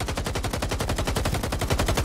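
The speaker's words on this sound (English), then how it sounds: "You'll just shoot at him." Rapid automatic gunfire from a video game keeps up an evenly paced stream of sharp, loud shots for the whole stretch.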